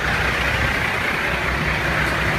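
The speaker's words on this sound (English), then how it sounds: "Turn your truck off." A truck engine idles at a roadside DOT inspection, a steady, loud, unbroken rumble and hiss that fills the whole moment with no other sound over it.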